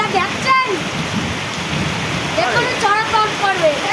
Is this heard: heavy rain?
yes